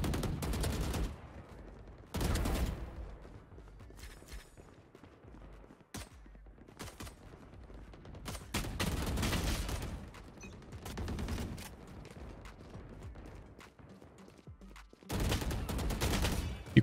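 Loud automatic gunfire from a first-person shooter game comes in repeated bursts of varying length, separated by short quieter gaps and softer scattered shots.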